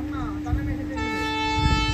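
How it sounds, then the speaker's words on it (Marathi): A train horn sounds as a passenger train starts moving on the line to Rameswaram, Tamil Nadu: a loud, steady, harmonic blast holds through the second half over low engine and wheel rumble, with some quieter tonal sounds just before it. "चालू झाली हॉर्न दिला"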